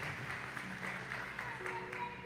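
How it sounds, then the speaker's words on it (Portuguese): A church congregation applauding Jesus during a worship service, a soft, steady patter of clapping that sounds somewhat distant and blends with faint voices. "vamos aplaudir a Jesus"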